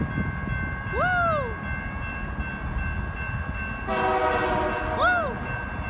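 A BNSF switcher locomotive sounds its horn as it passes, two loud two-tone blasts about four seconds apart over a steady low rumble of the moving train, recorded in the Puget Sound area in December.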